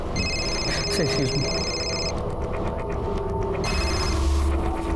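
A telephone rings in repeated electronic bursts with brief gaps between them, fairly close, while voices talk underneath.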